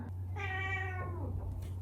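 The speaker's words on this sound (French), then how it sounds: "Qu'est-ce qu'il y a, un petit chat?" A small cat gives a single clear, drawn-out meow at close range over a steady low hum, with no talking.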